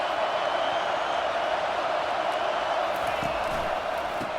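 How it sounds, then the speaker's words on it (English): Stadium crowd roar from College Football 25 during a Texas Longhorns dynasty game, a steady loud wash of massed voices with faint scattered whoops and shouts rising above it throughout. "This crowd trying to make life miserable for this offense."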